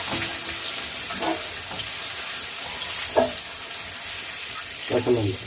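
Green chilies fry in hot oil, a steady close sizzle with a few soft clinks and stirring bumps from the pan, and no voices.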